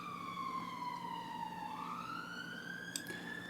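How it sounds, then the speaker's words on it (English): Emergency vehicle sirens wail past outside, fairly faint and distant. The pitch dips and then rises again in a long sweeping glide over low background hum. "Sorry about the sirens."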